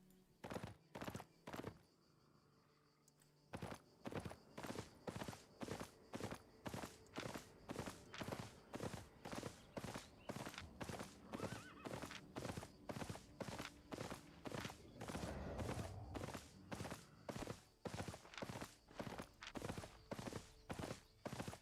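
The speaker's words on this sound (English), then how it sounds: "You're a huge T5 horse." A tier-5 horse mount in Albion Online trots with steady, evenly spaced hoof clops. The near, moderately loud strikes pause briefly early on, then continue in an unbroken rhythm for about twenty seconds.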